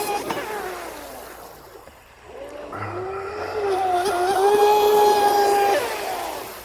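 A fast RC mono hull boat with a stinger drive, strut and trim tabs runs across water, its high electric whine fading, then climbing in pitch and loudness as it races past nearby.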